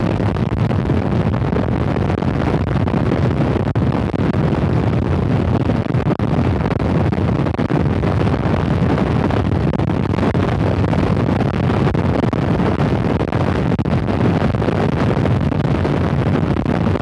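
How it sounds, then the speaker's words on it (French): Strong wind batters the microphone outdoors beside a motorcycle, a steady, loud rumbling buffet that lasts the whole time with no breaks and no voices. "avec le vent qu'il y a, à mon avis, on va rien entendre"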